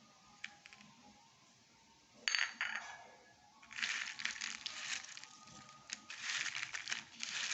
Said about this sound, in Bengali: খুব ভালোভাবে মিশিয়ে নেব।